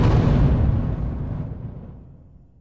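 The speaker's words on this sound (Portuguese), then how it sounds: "causando uma forte explosão" A powerful explosion in a zombie apocalypse story lands as a loud, dense roaring blast that starts at full force and slowly rumbles away over about two seconds, with no voices.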